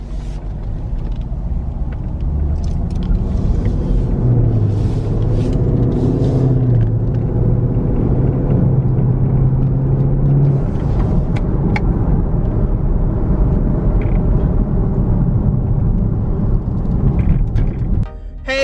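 A 2017 Chevrolet Camaro SS V8 engine rumbles steadily and loudly from inside the cabin while driving, a low droning tone that rises briefly in pitch midway before settling, with a short clunk near the end.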